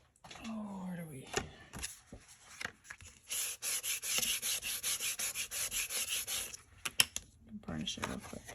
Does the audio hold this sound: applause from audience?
no